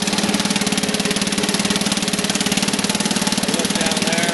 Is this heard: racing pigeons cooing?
no